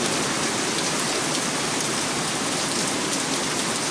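Heavy downpour of rain, a dense, steady, hissing wash that stays loud and even throughout, with no voices.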